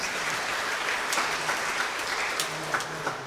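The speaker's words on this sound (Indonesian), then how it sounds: "Tepuk tangan kita untuk kita." A church congregation applauds during a bishop's homily, with a fairly soft, even patter of many hands clapping for a few seconds at moderate distance.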